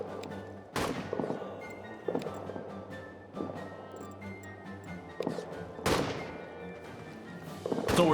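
Trench warfare gunfire from the World War I game Morale - All Quiet in the Trenches: several sharp rifle shots spaced a second or two apart, fairly close, over a low rumbling battlefield background.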